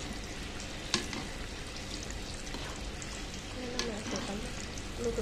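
Kamote cue, sweet potato chunks, frying in oil in an old pan without a handle, giving a steady close sizzle with a few sharp pops and faint background voices.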